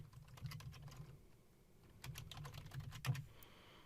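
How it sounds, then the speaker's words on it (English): Typing on a computer keyboard, with quick bursts of soft key clicks separated by a short pause, close and fairly quiet. "we're going to type in the name."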